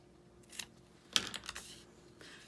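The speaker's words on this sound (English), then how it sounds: "I'm gonna snip it instead of ripping it" Scissors snip through a strip of washi tape at close range: a few crisp, quiet cuts spaced out over a couple of seconds in an otherwise hushed crafting setting.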